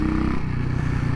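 A Bullitt motorcycle drops a gear, its engine rumble lurching and settling into a lower, uneven throb, loud and close.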